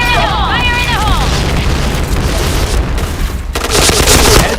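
A gas grenade goes off in the shooter game Point Blank, a loud, broad burst that swells near the end over constant dense game noise of gunfire and effects, with a character voice audible early on.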